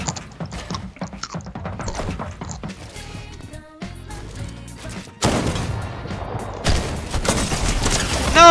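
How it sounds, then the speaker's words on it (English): Assault rifle fire in Fortnite, rapid bursts of sharp shots mixed with mechanical clicks and game effects, loud and close, growing denser toward the end. "I missed my AR shots."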